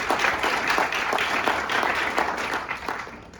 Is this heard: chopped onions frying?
no